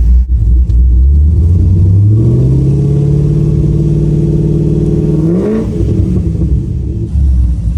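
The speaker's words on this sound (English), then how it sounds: "She's been idling for a couple minutes" A DIY race car engine idles with a deep, loud rumble, then revs up in a smooth climb, peaks and drops back to a steady idle, close by.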